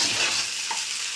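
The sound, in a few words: stirring chicken egg noodles frying in a pan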